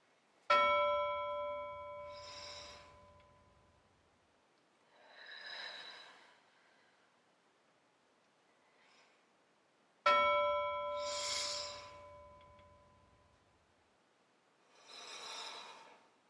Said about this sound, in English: If you'd like to take 3 cool down breaths, you can listen for my bell.